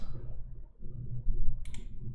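A deck of Magic: The Gathering cards is shuffled during a Legacy game, a brief crisp rustling burst after quiet low room noise.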